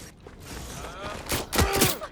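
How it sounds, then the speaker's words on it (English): Gunfire in the video game Watch Dogs: Legion, loud bursts of shots clustered toward the end of a short stretch, mixed with game effects and shouting voices. "Shots fired! Shots fired!"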